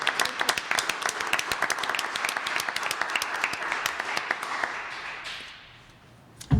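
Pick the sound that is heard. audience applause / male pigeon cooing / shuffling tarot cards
audience applause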